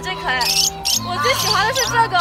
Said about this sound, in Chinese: 好多小鸟叽叽喳喳的